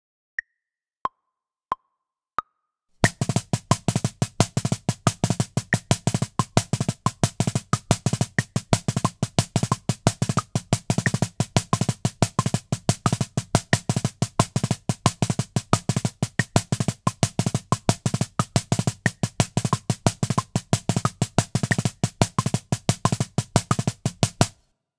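After four sparse count-in clicks, sticks strike a practice drum pad in a fast, steady stream of paradiddles with displaced accents, played left hand lead, dry and close for over twenty seconds.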